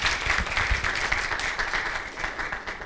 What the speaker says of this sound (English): a huge round of applause to yourself and to these wonderful panelists